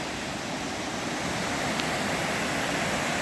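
Creek water at Laurel Falls rushes steadily below, a broad, even wash of noise that holds at constant level with no voices.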